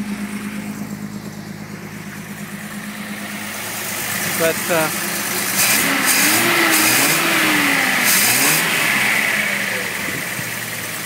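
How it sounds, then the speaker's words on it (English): A 1974 Datsun 260Z runs on choke with a steady idle and exhaust note, then blips into a few revs in the second half while a person talks over it. "So maybe you get a little bit of an idea of the sound of the exhaust from back here."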